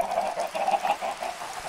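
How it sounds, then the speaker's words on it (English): Chickens in the Minecraft video game cluck in a quick, steady series of short calls, moderately loud and alone with no talk. "Look at all those chickens."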